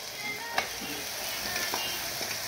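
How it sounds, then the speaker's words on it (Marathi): Mutton goes into a pan with turmeric and coriander powder and fries with a continuous soft sizzle, broken by a few light clinks and stirring taps. "आता या स्टेजला आपण यामध्ये मटण टाकून घ्यायचं आहे"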